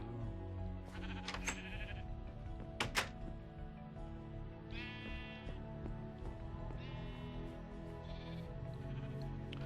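Minecraft sheep bleat again and again in a game world, a series of wavering baas spaced a second or two apart, alongside a couple of sharp clacking knocks, with no speech.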